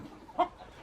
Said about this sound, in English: here's American breast chickens, the big ones